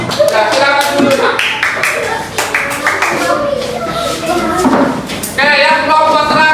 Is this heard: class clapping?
yes